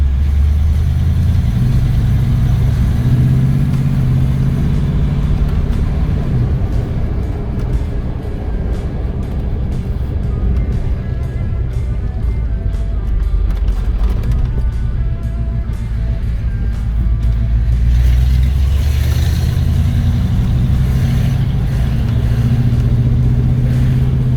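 A lifted 1990 GMC Jimmy 4x4 with a 5.7 EFI V8 and 33-inch tires being driven, its deep engine droning steadily from inside the cab, rising and easing with throttle through the drive and staying loud and close throughout.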